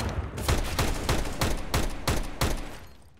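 Rapid video game gunfire on a shooting-range area of a Counter-Strike map being playtested, about seven sharp, evenly spaced shots in a steady rhythm, loud and close, with no talk over them.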